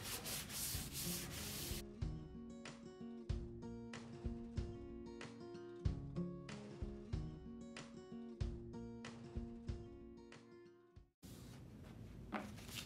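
Sandpaper rubs by hand over a raw wood table, a series of quick rhythmic scratchy strokes, fairly faint and close, with a louder burst at each end.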